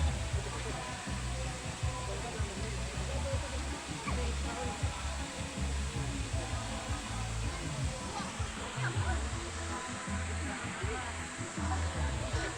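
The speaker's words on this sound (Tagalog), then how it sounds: "Let's go Kamuga Falls at Balilihan, Bohol." Kamuga Falls waterfall in Balilihan, Bohol, roaring as a steady, loud broadband rush of falling water that fills the whole stretch without a break.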